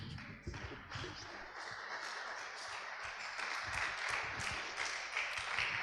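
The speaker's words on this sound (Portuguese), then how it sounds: "Sentar e pode aplaudir a Deus." Congregation applauding in church: scattered claps and shuffling at first, then building into sustained, fairly soft clapping from many people.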